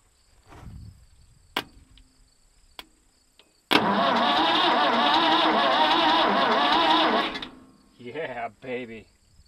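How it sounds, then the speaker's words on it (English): A backhoe engine cranks over when power is fed straight to the starter: a few clicks and taps, then several seconds of steady, loud starter churning that stops abruptly, followed by brief speech. "I'm gonna try and put power right to the starter"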